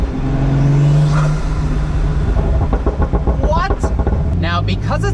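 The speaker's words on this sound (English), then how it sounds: "that's the best roof scoop noise in the world." A Pagani Huayra Roadster BC engine roars through its roof scoop intake, a loud close drone that builds and rises in pitch, while people talk over it.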